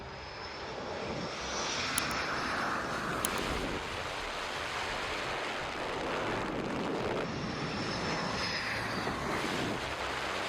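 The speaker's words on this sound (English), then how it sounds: "One after another, jets are sent into the sky." Military jets roar off an aircraft carrier deck at sea, a steady, loud wash of engine noise with a couple of sharp bangs from the catapult launches, carried on wind and surf.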